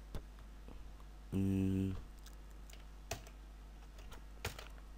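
Python code typed on a computer keyboard, with a quick burst of key clicks and a few scattered single taps, close and clear, against a low background hum.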